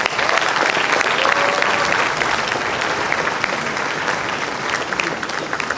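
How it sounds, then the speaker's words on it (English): Dense, sustained applause fills a large hall at a matriculation ceremony, a loud continuous roar of many hands clapping together that holds steady throughout with a slight fade near the end. "Give yourself a round of applause."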